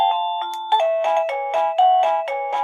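A TeckNet wireless doorbell plays a bright electronic chime tune, a quick run of about ten clear, evenly paced notes, close and alone.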